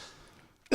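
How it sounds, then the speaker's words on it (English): A single short cough bursts out loudly at the very end, following a stretch of low murmur and room noise in a football radio show's recording studio. "One more cough."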